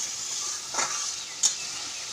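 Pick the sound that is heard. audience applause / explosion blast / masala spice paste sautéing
masala spice paste sautéing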